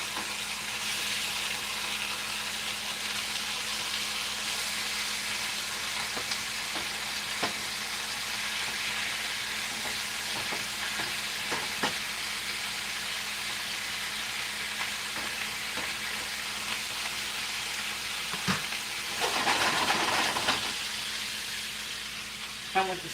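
Korean BBQ short ribs (galbi) sizzle steadily in a pan after being flipped, a continuous close frying hiss with a louder crackling surge near the end and occasional utensil clicks.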